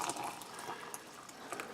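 Hot water pours steadily into a cooking pot of rice, a continuous close splashing and trickling fill lasting under two seconds without speech.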